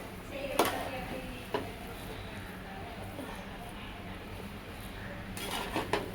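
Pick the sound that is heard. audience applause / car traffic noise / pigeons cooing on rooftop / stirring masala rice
stirring masala rice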